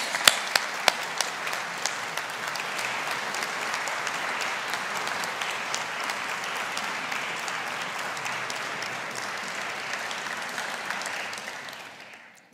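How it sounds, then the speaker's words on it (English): A graduation ceremony audience applauds families and supporters in a large hall, a steady, even wash of many hands clapping throughout before fading out at the end. "let us take the opportunity to show our appreciation and gratitude with a round of applause for your family,"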